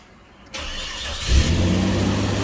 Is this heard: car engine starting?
yes